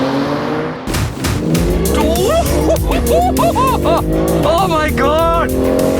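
A BMW M4 Competition launches under launch control at full throttle, its engine roaring loudly and climbing through rapid gear shifts, heard from inside the car with an excited voice shouting over it.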